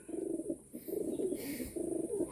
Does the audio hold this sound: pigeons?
yes